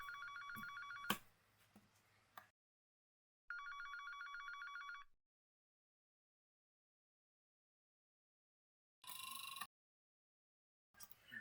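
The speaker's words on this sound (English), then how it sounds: "I was startled by my phone ringing." A phone ringing at home: electronic ring bursts of about two seconds each, separated by long silences, with a sharp click partway through the first ring and later shorter noisy bursts.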